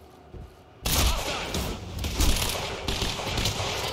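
A burst of sniper and rifle fire from the action shooter Quantum Break, loud and dense after a quiet start, with rapid overlapping shots and thuds rolling on without pause.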